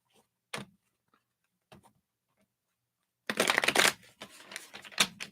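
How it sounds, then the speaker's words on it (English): A deck of reading cards is shuffled by hand: a few soft isolated taps, then a dense riffling burst and scattered flicks, close and quiet, without speech. "Now we're doing the shuffling."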